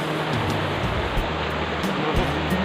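Strong rushing water, swollen by rain, at Balabag. It makes a constant, loud broadband roar close by, with a deep rumbling undertone and no break.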